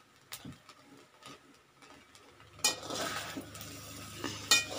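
Seafood paella rice stirred in a pan, with a utensil scraping and clinking at close range, quiet and intermittent at first, then a denser, louder mix of scraping and soft sizzling for the last couple of seconds.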